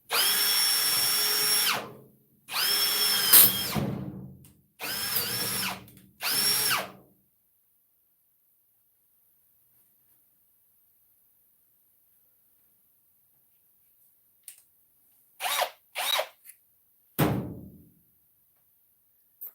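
A power drill fitted with drill bits runs in several loud bursts close by, first four longer whirs, then a long pause, then a few short spurts while working on a 1973 GMC motorhome.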